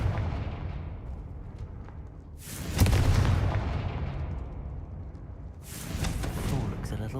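In Hogwarts Legacy, Confringo blasting-spell explosions erupt in two loud, booming bursts a few seconds apart, each swelling and rumbling away over a low background rumble.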